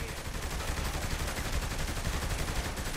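Rapid, dense gunfire rattles continuously and loudly in Saints Row: The Third, a sustained burst of shots with no talking over it.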